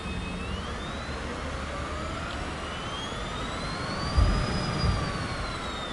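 A single aircraft engine held at full throttle in Microsoft Flight Simulator 2024 gives a steady, loud, continuous roar with a slowly drifting whine above it, plus a couple of brief thumps near the end.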